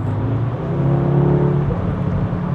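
A new Audi A3 in its sportiest drive mode accelerates hard, the engine droning and rising in steady revs from inside the cabin, loud and continuous with no talk over it.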